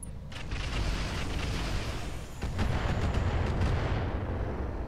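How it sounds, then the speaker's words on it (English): Mortar fire in the BattleTech-based video game Roguetech, a dense rumbling barrage of heavy booms and crackling blasts rolling on continuously, loud and close, with no voices. "Oh, that's a mortar, I think."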